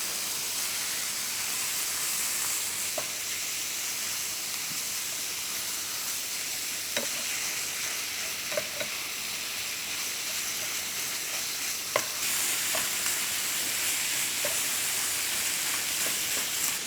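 Beef frying in a pan with bacon and onion for tacos, a steady close sizzle and hiss with occasional stirring clicks and scrapes, no voices.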